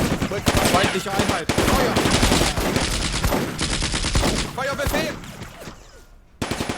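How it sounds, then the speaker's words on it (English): Dense, sustained machine gun bursts and overlapping rifle fire crackle through a Combat Mission: Afrika Korps battle, nearly continuous and loud, with a brief drop before firing resumes at the end. "Keep on firing."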